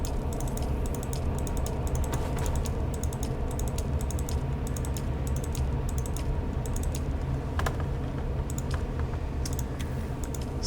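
A clicky computer keyboard clatters in rapid bursts of keystrokes during a session of the game Dune Awakening, close and crisp over a steady low background hum, with brief pauses between runs.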